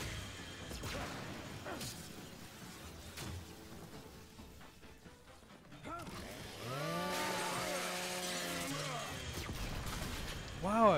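A chainsaw revs in the Gears 5 video game, a rising mechanical buzz growing louder amid crashing gunfire and battle noise, with voices talking over the action.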